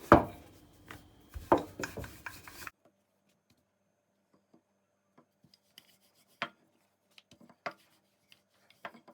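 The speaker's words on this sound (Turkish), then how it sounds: "Merdane yardımıyla açma işlemine başlıyoruz." Thin unleavened lavash dough is rolled out with a rolling pin, making close rubbing thumps in a quick run for about two and a half seconds. Near silence follows, broken only by faint scattered ticks.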